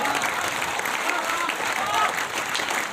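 Audience applause at a Hindi kavi sammelan poetry recital, a dense sustained burst of clapping from a large crowd, loud and close throughout.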